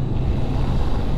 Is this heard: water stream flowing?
yes